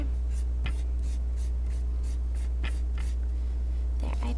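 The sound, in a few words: finger smudging chalk down a drawing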